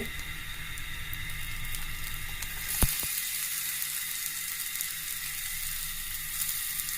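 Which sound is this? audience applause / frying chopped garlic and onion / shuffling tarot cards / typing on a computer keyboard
frying chopped garlic and onion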